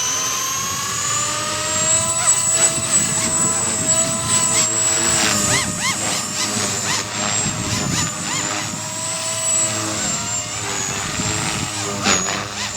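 A Blade 230s SMART RC helicopter flies close by, its rotor whine high and steady with a buzzing drone that wavers slightly as it maneuvers, continuous throughout.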